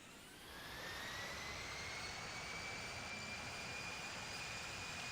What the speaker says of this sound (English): Alright, so here's our takeoff.